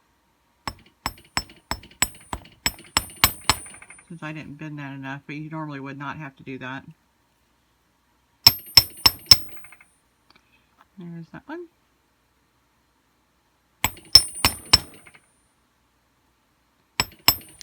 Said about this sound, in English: And then I'm going to hammer harden these as well.